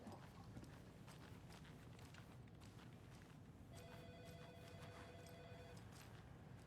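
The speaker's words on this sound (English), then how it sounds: "The phone." A telephone rings in the video game Alan Wake 2, a faint, steady ring that starts partway through over a busy game soundscape with footstep-like clatter.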